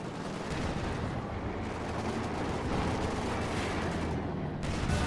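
Dense, continuous gunfire and heavy cannon blasts from Panzer IV tanks and infantry fill a Company of Heroes 2 battle on the Angoville map, a loud, unbroken rumble of overlapping shots with no speech.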